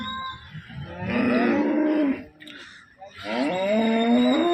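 A cow moos twice, long and drawn out, with a short pause between the calls, close and clear, at a cattle market in Loni, Ahmednagar.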